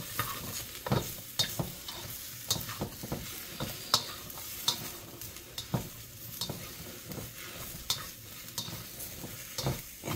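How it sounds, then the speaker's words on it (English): Bok choy stir-frying in a pan with a few drops of sesame oil, bright sizzling under repeated sharp scrapes and clacks of the utensil against the pan at an irregular, busy rhythm. "Sure you don't just want to watch me keep stir frying this."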